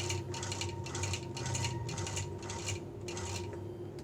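A sewing machine runs long basting stitches across a quilt block, an even rhythmic clatter of about eight mechanical bursts that is close and steady, with no voices.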